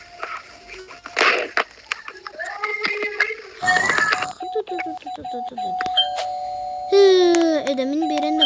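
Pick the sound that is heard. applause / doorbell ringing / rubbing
doorbell ringing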